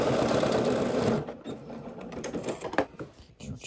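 A sewing machine runs loud and close, stitching a seam of Vinton pants up to the top, then slows and stutters into short, uneven bursts.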